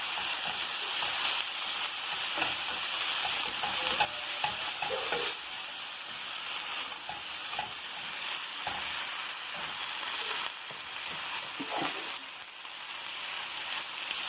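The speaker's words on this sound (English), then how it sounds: "I gotta be careful when I add that because I'm gonna stir that in." Noodles and mushrooms are stirred in a hot sizzling pan, giving a steady soft frying hiss with repeated scraping and clattering stir strokes throughout, with no talk.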